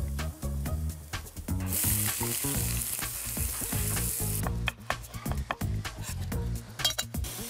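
Rice sizzles and fries steadily in a pan during a cooking competition, with the scrape of stirring and occasional light clinks of utensils throughout, and no talking.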